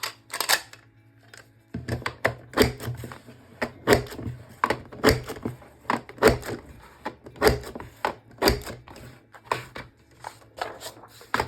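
A border maker trimmer system cuts paper strips with a series of sharp, close clicks and snaps at an irregular pace over a low machine hum.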